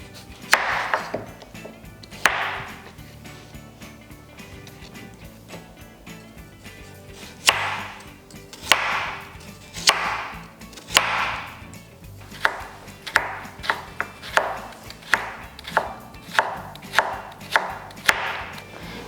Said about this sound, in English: Let's chop 1/3 carrot into thin strips too.